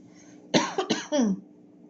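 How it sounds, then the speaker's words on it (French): A short burst of coughing, three or four quick hacking coughs close to the microphone, in an otherwise quiet room. "Désolée, je tousse."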